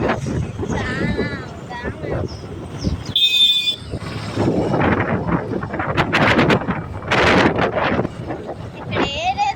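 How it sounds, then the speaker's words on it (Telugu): Strong wind blowing through a village with grass, buffaloes and trees, roaring and buffeting the microphone in loud gusts while a person talks over it. "ఇక్కడ ఏదేదో ఉన్నట్టుంది గాయ్స్, అందుకే పెద్ద గాలి."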